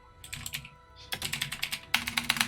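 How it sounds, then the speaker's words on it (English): Fast clattering keystrokes on a computer keyboard while notes are typed into a notepad, in several close, loud bursts with brief pauses between them and no talking. "I'm just typing these into a notepad."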